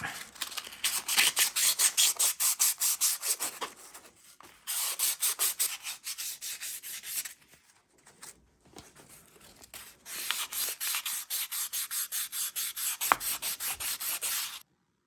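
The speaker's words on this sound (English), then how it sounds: "Just got done sanding down the brakes." Steady rasping abrasive scrubbing as a Honda XR70 motorcycle's brake shoes are sanded to remove glazing, quick repeated strokes, close and loud, pausing briefly twice before resuming, with no talking.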